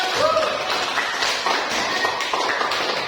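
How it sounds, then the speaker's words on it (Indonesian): Classroom applause breaks out after a correct answer, with steady clapping from many hands that fills the room close by and continues evenly throughout. "maka beri aplaus untuk"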